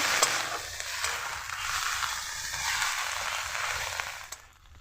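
A ginger spice paste is stirred and fried in a pan for a rita fish curry. A continuous close sizzle carries soft stirring scrapes, then dies down near the end.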